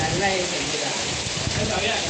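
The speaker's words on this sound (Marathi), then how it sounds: "पाहू शकता आता एकदम जबरदस्त असा पाऊस सुटलाय, एकदम जबरदस्त" Steady hiss of heavy rain pouring down in Khed, Konkan, a dense unbroken wash of sound, with a person talking over it.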